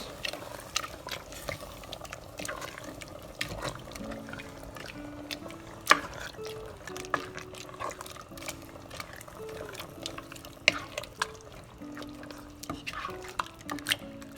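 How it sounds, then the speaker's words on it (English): A thick green chile pork mixture with diced chilies and tomatoes is stirred vigorously in a pot, giving repeated wet scrapes and clicks of the spoon, with faint background music. "you're gonna want to mix vigorously because this mixture is pretty thick here"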